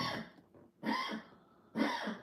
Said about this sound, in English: And now she starts coughing as soon as I hit stream.